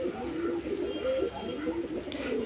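Pigeons coo steadily in a loft, overlapping low throaty calls rolling one after another at close range, with a faint murmur of a voice beneath.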